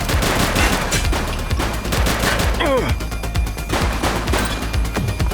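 Gunfire in the police video game The Precinct, repeated loud shots and rattling bursts throughout, close and busy, with a shouted voice partway through.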